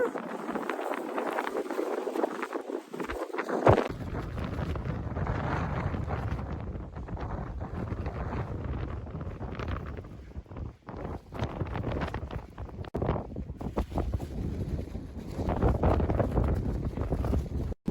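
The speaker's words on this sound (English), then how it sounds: "You probably still can't quite hear me because of the wind" Strong wind at a beach buffets the microphone in a constant loud roar with gusts, briefly easing near the start, and no clear voice heard over it.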